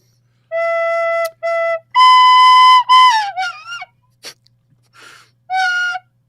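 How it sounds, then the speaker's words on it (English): A tin whistle plays a string of clear, bright notes: two short steady tones, a long held note, then quick wavering trill-like runs and a final short note, loud and close with no voices. "this is not a recorder; it's a tin whistle"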